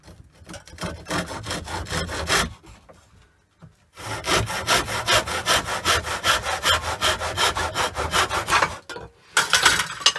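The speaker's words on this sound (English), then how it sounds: "anything you put in there and saw, you get a 90 degree cut" Hand saw cutting wood held in a mitre board clamped in a vise, steady rhythmic back-and-forth rasping strokes close up, in two long runs separated by brief pauses.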